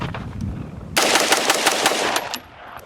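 Rapid, loud rifle fire from 300 Blackout and 5.56 rifles at an outdoor range at Four Peaks, Arizona, a quick string of closely spaced shots after a quieter lead-in, then fading out.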